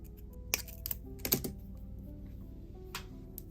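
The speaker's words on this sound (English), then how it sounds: "Snip off the excess pin." A few sharp metallic clicks from cutters snipping off the excess tail of a jewelry head pin, close and crisp against a quiet background, with a couple of brief handling taps around them.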